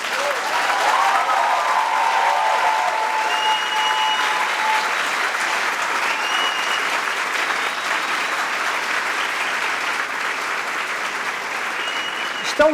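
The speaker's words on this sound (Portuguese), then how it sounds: "Acho que eles merecem uma salva de palmas." Sustained, dense audience applause at the Bienal do Livro book fair, loud and steady throughout with faint voices mixed into the crowd noise.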